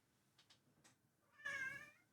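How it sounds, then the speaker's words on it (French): A cat meows: a few faint short sounds come first, then one clear, louder drawn-out meow near the end, in an otherwise quiet room with no talking. "Je vous présente Taz. Voilà. Le plus mignon chat du monde"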